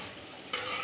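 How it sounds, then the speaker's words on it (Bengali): Cauliflower pakoras fry in oil over low heat, a steady soft sizzle that swells suddenly louder about halfway through this brief moment. "কম কম আঁচে ভাজবেন, না হলে কিন্তু ফুলকপিগুলো পুড়ে যাবে।"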